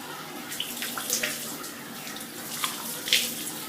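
Tap water runs steadily into a sink during face washing, a continuous close splashing hiss with a few brief louder spatters and no talking.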